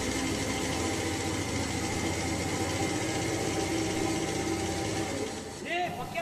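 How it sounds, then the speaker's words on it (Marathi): A scooter engine runs steadily through the scene, then eases off near the end as it draws closer, with a low broadband hum that stays fairly loud throughout. "ये स्कूटर पे कौन आ रहा है?"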